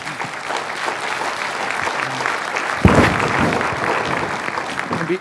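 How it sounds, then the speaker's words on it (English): An audience claps steadily for a panel at a conference, with a dense, even patter of many hands and one louder clap sound partway through. "We get a round of applause for this panel."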